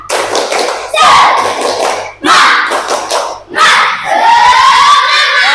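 Schoolchildren in a classroom chant and clap together in repeated loud group bursts, three surges of voices with brief pauses between them.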